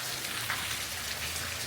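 Steady rain falls on a grey day as a continuous, even hiss of drops on surfaces, moderately loud and unbroken, with no voices.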